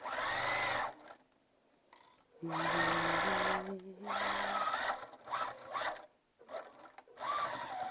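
A sewing machine runs in several fast bursts of stitching along a tote bag seam, stopping and starting with short pauses, while a voice talks between and over the runs.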